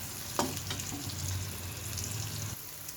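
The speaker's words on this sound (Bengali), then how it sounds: "বলতে বলতে পেঁয়াজ কিন্তু ভাজা হয়ে যাচ্ছে" Close, steady sizzle of onions frying in a pan, with a low hum underneath and a faint clink early on.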